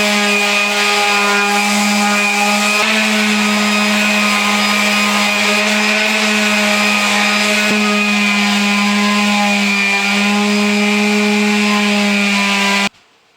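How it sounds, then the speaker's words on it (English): An electric sander with old sandpaper works over a bathroom vanity, giving a loud, steady, high-pitched whine that runs without a break before cutting off abruptly at the end. "Maybe I'll give in and get my sander."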